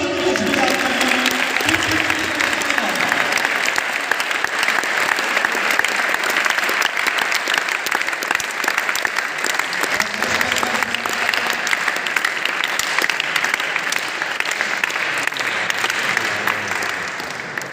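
An audience at a cricket championship prize ceremony in Khanewal claps loudly and without a break for the arriving chief guest, a dense sustained round of applause with crowd noise under it.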